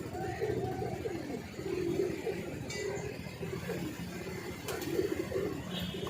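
A pigeon coos near a tower in a pigeon-flying setting, soft repeated low calls over steady background noise with faint voices.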